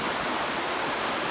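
Sea waves on the coast of Jeju, Korea make a continuous broadband rush of surf, steady and fairly close, with no voices over it.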